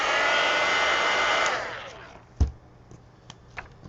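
A hair dryer blows loudly on a small watercolor painting, a steady rushing whir that winds down and stops partway through, followed by a few faint clicks and knocks.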